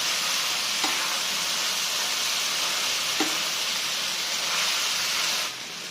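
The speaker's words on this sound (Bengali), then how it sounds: "গল্প করতে করতেই আলু ভাজিটা বসিয়ে দিলাম" Potatoes frying for aloo bhaji in a home kitchen pan, giving a steady, close sizzle and hiss that runs without pause, with a couple of soft knocks from stirring, then fading slightly near the end.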